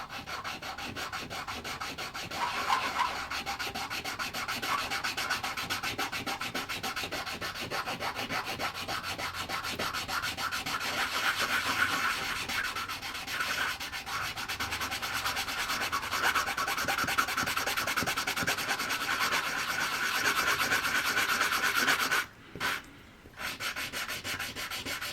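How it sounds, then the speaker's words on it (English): A worn medium sanding stick rubs back and forth over a small wooden model ship part, a close, steady rasping scrape that continues for a long stretch with one brief pause near the end. "we're going to take what's left of our medium sanding stick here"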